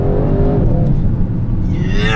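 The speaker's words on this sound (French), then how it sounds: "il y a une phase où il souffle à plein poumon le moteur" An Audi RS engine revving hard under acceleration in second gear, a loud rising car roar with rumbling low end and climbing pitch, close and alone.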